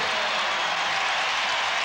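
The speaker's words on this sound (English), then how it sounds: "Well, the crowd's into the game already." Indiana Pacers home crowd roaring and cheering inside a basketball arena during a 1996 NBA playoff game, a steady, dense wash of noise with no single voice standing out.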